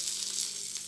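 Meat grilling barbecue-style with fat running out, giving a steady close hiss of sizzling across the brief moment, with no voices.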